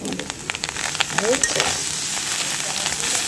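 Maggi noodles with egg and Maggi masala frying in a pan, giving a steady, close hiss of sizzling with a few scattered crackles and stirring clinks throughout.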